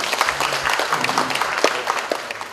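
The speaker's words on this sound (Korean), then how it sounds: "박수로 환영해 주시기 바라겠습니다." Applause from a university audience welcoming the president at a gathering for new students' parents, steady clapping from many hands, moderately loud and continuous for a couple of seconds, fading slightly at the end.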